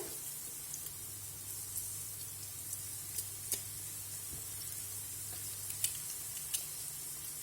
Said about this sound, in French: Donc maintenant, on va mettre l'ail.